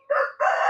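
A domestic chicken with a pus-swollen eye lets out two loud, close calls in quick succession, the second longer than the first, with no voices present.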